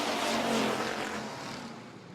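Street stock race cars roar around an oval track at a feature race, a loud blended engine drone that swells and fades slightly as cars pass.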